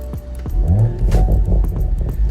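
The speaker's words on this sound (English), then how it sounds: "sounds a little bit more throaty, got some more burbles and pops in there" A BMW Z4 sDrive30i or M40i in Sport Plus mode gives a deep, throaty engine and exhaust rumble, close and loud, with burbling pulses and pops over a low growl.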